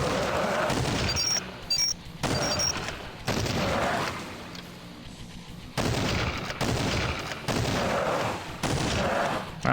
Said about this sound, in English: Wow, the sniper rifle does not take out these big guys.